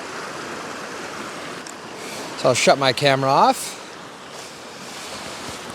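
A river flows outdoors, a steady broadband rush of water running throughout, while someone speaks briefly in the middle over it.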